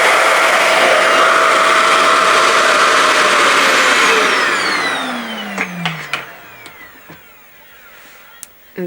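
A Revair reverse-air hair dryer on setting 7 with heat raised, drying type 4 hair, roars with a loud, steady rushing whoosh for about five seconds, then powers down with a falling whine followed by a few soft clicks and near-silence.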